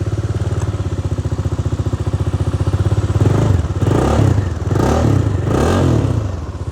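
A Bajaj Dominar motorcycle left idle for two weeks cranks, then fires up and revs, a loud close rhythmic starter churn giving way to a running engine with rising bursts of throttle.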